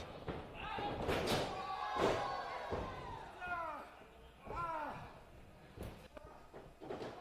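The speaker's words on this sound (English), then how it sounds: "that's the most vicious turnbuckle shot you people will see anywhere" Heavy slams and thuds as a professional wrestler is driven hard into the turnbuckle during a main-event match, several impacts over loud crowd noise and commentary voices.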